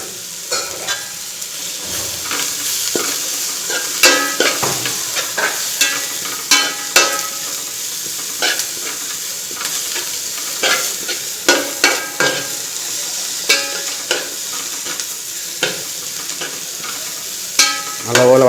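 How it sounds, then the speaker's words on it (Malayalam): Curry leaves sauté in a hot pan for pepper chicken curry, giving a loud close frying hiss with frequent crisp pops and scraping spatula strokes. "നല്ലപോലെ വഴറ്റിയെടുക്കുക."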